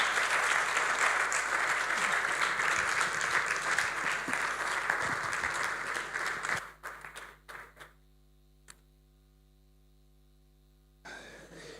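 A conference audience applauds in a loud, sustained burst of clapping that fades out after several seconds, leaving near silence.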